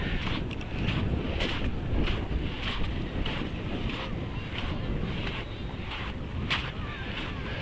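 Strong October wind buffets the microphone in steady gusts on a Red Sea beach at Sharm el-Sheikh, Egypt, with surf faintly washing in the background.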